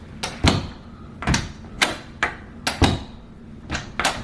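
A doorknob latch on a door is worked repeatedly, giving about eight sharp metallic clicks and knocks in an irregular rhythm, close and fairly loud, with no talking.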